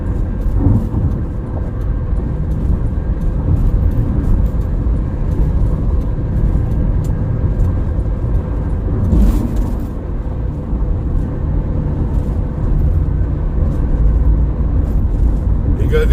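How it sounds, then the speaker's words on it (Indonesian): Continuous, loud road rumble and engine drone from cargo trucks and small cars on the Semarang-Batang toll road, heard from a moving vehicle, with a voice talking over it throughout. "hanya ada beberapa kendaraan angkutan kargo, sementara kendaraan kecil juga lebih banyak"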